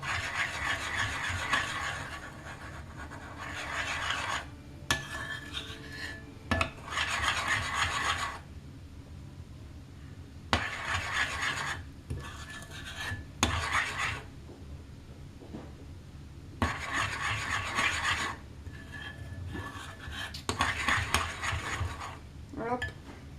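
Soft American-style cookie batter is stirred in a bowl, giving close, rhythmic scraping and rubbing strokes in repeated bursts separated by short pauses, with no talking.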